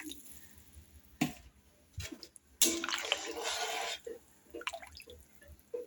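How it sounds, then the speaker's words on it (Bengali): Water poured into a pan of Bengali fish curry with many fish pieces, a short splash and then a steadier pour lasting about a second and a half, with drips and small clatters around it. "এখন আমি এর ভেতরে জল দিয়ে দিচ্ছি"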